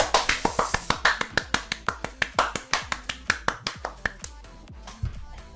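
A single person claps by hand in a steady, fairly quick rhythm, about two dozen sharp claps close to the microphone, celebrating a winning trade, with a brief louder thump near the end and no talking.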